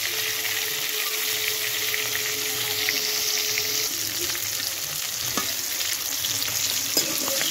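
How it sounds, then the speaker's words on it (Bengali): Pond fish fry in hot oil in a home kitchen, a steady bright sizzle running throughout with occasional clinks and stirring sounds, close and continuous, with no talking. "মাছগুলো সব ভাজা হয়ে গেছে"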